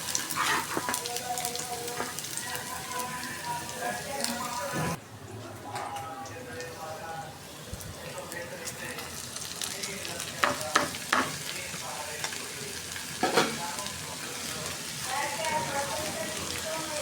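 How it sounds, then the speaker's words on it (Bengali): Bitter gourd (karela) fries in a pan with a steady, close sizzle, broken by stirring scrapes and a few sharper clinks of a utensil against the pan. "করলা ভাজাটা বসাই দিতেছি আগে।"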